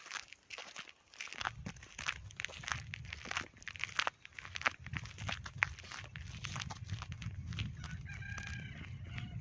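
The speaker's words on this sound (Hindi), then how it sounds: "मुर्गा बाधे दे रहा है।" A rooster crows in the distance amid clucking fowl and footsteps on a quiet morning walk outdoors in Dera Bugti, Pakistan, with other birds faintly audible.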